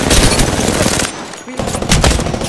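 Automatic gunfire in the video game Apex Legends, loud rapid bursts that pause briefly midway and then resume, close and dense.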